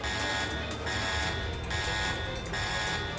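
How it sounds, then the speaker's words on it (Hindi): A spaceship alarm buzzes in steady repeating pulses, a quiet electronic tone cycling on and off with brief gaps and no talking. "उससे पूछो अलार्म को बंद कैसे करें"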